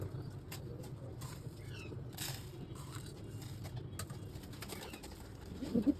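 Pigeons on a home rooftop make soft, intermittent cooing and a few wing flutters, fairly close, over a steady low background hum and a short knock at the end.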